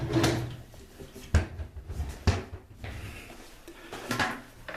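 Cabinet drawers in a house bathroom opened and shut, giving several sharp wooden knocks and slides spaced a second or so apart, close by and alone, with no talking.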